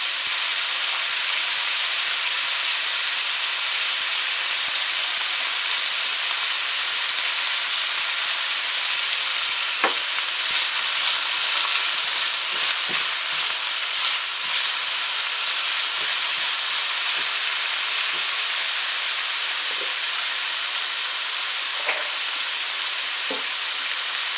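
Scallions and onions fry steadily in a pan for shrimp sijan baji, a continuous bright sizzle and hiss with faint scattered pops and clinks, no talking.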